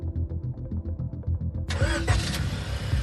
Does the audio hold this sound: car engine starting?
yes